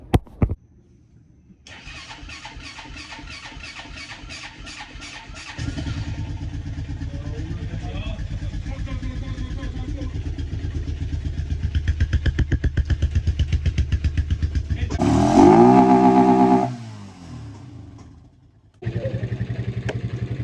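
A motorcycle is cranked with a few rapid starter attempts before the engine catches and runs with a steady, loud putter, revving up to a sharp peak, dropping back, then idling again.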